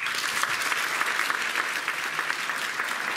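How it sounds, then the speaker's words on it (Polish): An audience at a charity Christmas concert applauds steadily, a dense wash of clapping hands that holds even and loud for a few seconds without any speech. "Wielkie brawa."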